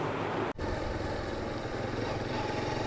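A Honda CB150F motorcycle engine runs steadily close by during a ride inside a residential society, a continuous low drone with one brief dropout near the start.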